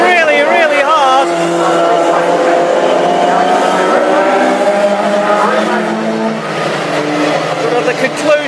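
Classic hot rod cars racing at Ipswich roar loudly and steadily with revving engines and shifting pitch, while a commentator talks excitedly over the din throughout.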